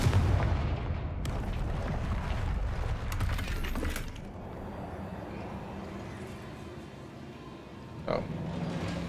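Confringo blasting spell cast in the video game Hogwarts Legacy, a loud crackling burst at the start that trails into a rumbling, sustained din, with a second sharp impact near the end.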